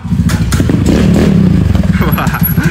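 A motorcycle engine revs hard through an exhaust pipe test, with a sustained loud roar and rising and falling throttle blips across the whole stretch, plus some faint clatter.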